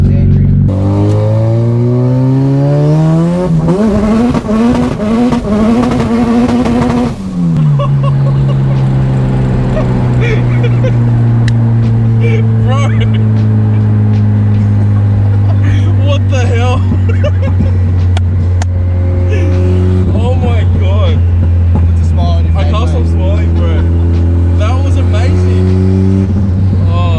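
Nissan S14 with an SR22 engine and twin plate clutch, built as a street car, revving hard up and down in loud sweeping bursts, then settling into a rough, rattly idle with pops as people talk nearby.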